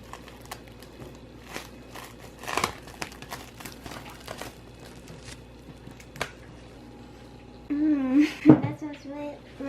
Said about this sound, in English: let's take the plastic off and time to roll it